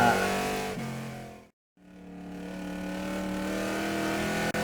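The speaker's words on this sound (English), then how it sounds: "The next car onto the track is the number 59 Mazda." A number 59 Mazda street stock race car on a speedway track during qualifying: a steady engine drone passing with a brief dip, then the roar building again, loud and continuous with no talk.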